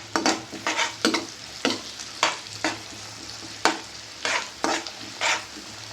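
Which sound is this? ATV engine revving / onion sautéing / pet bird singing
onion sautéing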